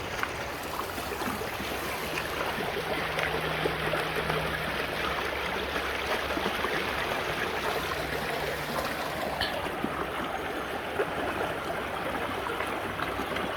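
A Colorado mountain creek fed by melted snow flows with an even, continuous rushing and burbling at moderate volume, close by and uninterrupted.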